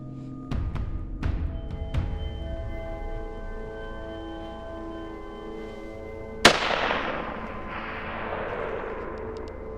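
Shots from a .270 short mag rifle fired at a bull elk during a Wyoming hunt, three sharp cracks close together followed after a pause by a louder fourth shot with a long rolling echo, outdoors with no talk.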